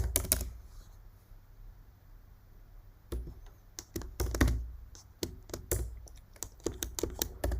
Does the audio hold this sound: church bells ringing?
no